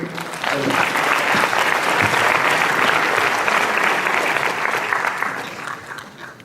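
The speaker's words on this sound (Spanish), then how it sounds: "la recibimos con un aplauso, por favor" An audience claps to welcome a speaker to a scientific talk on gene expression in bacteria, steady dense applause that is loud and close and runs through almost the whole clip before easing off at the end.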